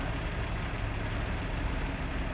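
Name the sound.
car engine idling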